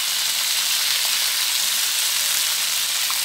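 Fish frying on an old pot lid reused as a grill, giving a steady, bright sizzle and hiss that holds constant and fairly loud throughout, with no voices.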